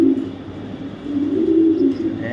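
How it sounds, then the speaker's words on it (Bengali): An imported female racing pigeon coos in low, throaty, repeated rolls, close and clear over faint background noise. "সেই রকম কোয়ালিটির একটা মাদি কবুতর"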